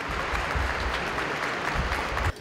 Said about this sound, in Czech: Slavnostní odhalení se odehrávalo za obrovského počtu zájemců, kteří místy tleskali na podporu provokativního díla.